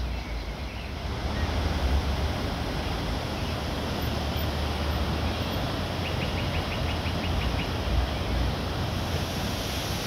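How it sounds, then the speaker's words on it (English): A nearby waterfall in the Jemez area of New Mexico runs heavily, giving a steady, dense roar of rushing water that holds at the same level throughout, with no voices. "As we continued our drive, we also stopped at the waterfall nearby."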